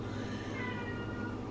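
Hungry house cats meowing in a home just after groceries were unloaded, a steady, fairly quiet stretch of continuous vocalizing with no talk over it.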